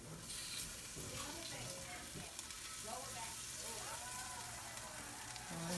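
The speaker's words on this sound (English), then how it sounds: "I'm going to throw some butter in there. Let that cook for a second." Butter sizzles and crackles in a hot pan while spicy shrimp are sautéed, a steady close frying hiss with some clinks and stirring, and voices faintly in the background.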